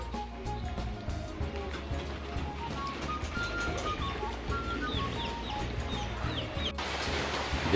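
Chickens cluck and call in a rural yard with pigeons nearby on a drizzly morning, with scattered short calls over a steady background murmur throughout.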